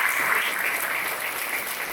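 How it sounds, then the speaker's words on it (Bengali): An audience at a Knowledge Carnival event claps in a steady, full burst of applause that carries evenly from start to finish. "তাদের জন্য বড়সড় একটা তালি আমি শুনতে চাই"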